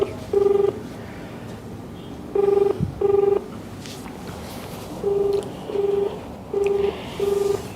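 Telephone keypad tones dialing a compliance officer: short, clean beeps in uneven clusters, then a steady run of evenly spaced single tones, clear over a quiet background.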